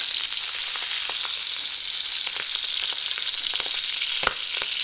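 Steelhead fish skin sizzles steadily in a hot frying pan, with a loud, continuous hiss broken by scattered sharp pops and crackles and no talking.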